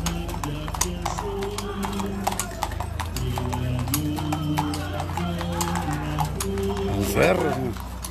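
Horses' hooves clip-clop steadily on pavement during a Way of the Cross procession in Sombrerete, Zacatecas. Crowd noise and voices run underneath, along with a brief whinny-like cry.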